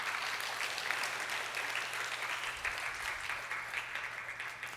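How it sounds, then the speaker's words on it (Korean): Congregation applause in a church during a Wednesday prayer service, steady broadband clapping from many hands filling the whole stretch at close range, with no talk over it. "박수 한번 해주시죠."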